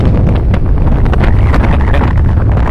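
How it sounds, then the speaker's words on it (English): Strong coastal wind on a beach along the Atlantic coast of Ireland buffets the microphone in loud, gusty rumbles, a constant blustery roar with no one speaking. "You can hear the wind."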